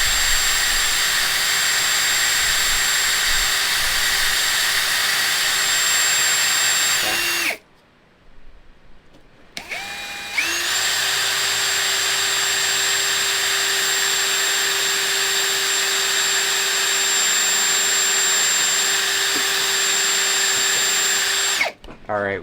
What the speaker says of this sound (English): we like even sanded down that shaft a little bit and polished it like crazy